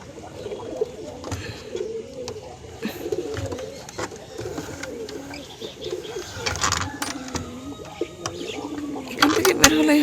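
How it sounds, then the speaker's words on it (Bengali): Many pigeons coo steadily inside their coop, soft and close, with brief metallic clinks and a voice talking quietly underneath. "অনেকগুলো কবুতর আছে"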